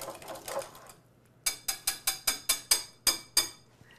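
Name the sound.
whisking pumpkin puree into eggs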